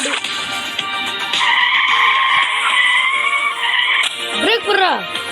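A car brakes and skids in a mobile open-world driving game. A sustained, loud tire screech rides over engine noise, then cuts off and is followed by a short wavering vocal-like chirp.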